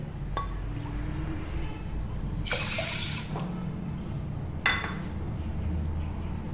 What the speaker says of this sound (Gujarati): જો એક વાટકી મગ હોય તો તેમાં બે વાટકી જેટલું પાણી એડ કરીને